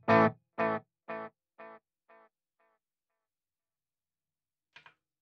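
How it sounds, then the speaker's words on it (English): A single guitar note played through a tape echo effect on a Fender Tone Master Pro, struck loud and then repeating about five times at a steady rhythm, each echo quieter and darker, followed by a faint short pluck after a pause. "So we got a core note on the tape echo"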